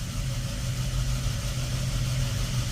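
Combustion motor of a Trane commercial heating furnace running, a steady low hum and whir, loud and close, unbroken throughout with no voices.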